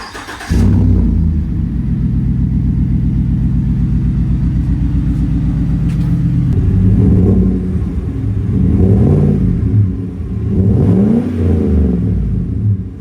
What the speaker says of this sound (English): one of the other big things that you'll notice that's not factory equipped is this side exhaust, twin tip on both sides